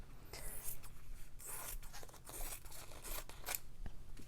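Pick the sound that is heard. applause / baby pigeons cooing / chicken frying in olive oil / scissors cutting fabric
scissors cutting fabric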